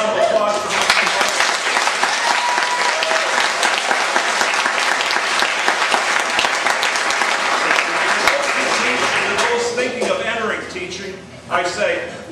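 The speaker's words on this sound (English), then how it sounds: "A round of applause for Mr." Audience applause after a 2004 retirement speech: dense, steady clapping from a large crowd that holds for about ten seconds, then thins out and fades away near the end.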